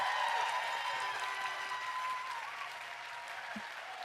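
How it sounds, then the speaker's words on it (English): Convention audience applauding and cheering steadily for about four seconds, a dense wash of clapping that slowly fades slightly, with no talk. "Let's give them a cheer so loud enough that they can hear it through their home computer or TV"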